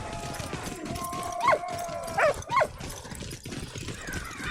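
Dog in the video game Valiant Hearts: The Great War giving a few short barks and yips, spaced out over a quiet game soundscape with faint background ambience.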